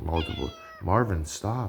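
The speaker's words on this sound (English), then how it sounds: "Sorry, that's my cat." A pet cat meows close to the microphone several times, drawn-out tonal cries interrupted by a person speaking briefly in between.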